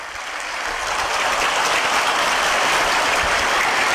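A group of schoolchildren claps loudly in sustained applause for a gift-giver, the dense clatter building within the first half-second and holding steady for about four seconds, with no talk over it.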